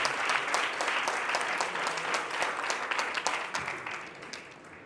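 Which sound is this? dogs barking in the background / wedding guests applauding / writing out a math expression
wedding guests applauding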